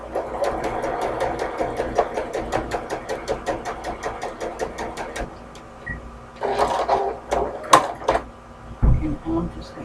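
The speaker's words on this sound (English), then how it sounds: "And I'm just going to keep sewing." A sewing machine stitches fabric in a fast, even rapid-fire rhythm for about five seconds, then runs again in shorter irregular bursts with a few clunks, close by, while someone talks over parts of it.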